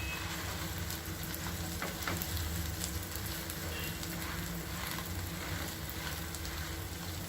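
Opened pav bread sits on butter on a hot griddle at a food stall, giving a steady, faint sizzle that runs evenly throughout with a few small crackles.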